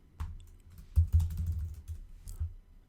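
Quiet keystrokes on a computer keyboard as text is entered, a few scattered taps followed by a short burst of close clicking that then trails off, with no speech.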